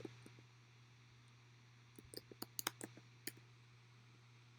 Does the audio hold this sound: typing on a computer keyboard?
yes